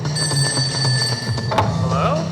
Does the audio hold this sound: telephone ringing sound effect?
yes